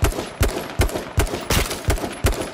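Sharp gunshots fire in a steady rhythm, about seven evenly spaced bursts, loud and punchy with video game sound effects.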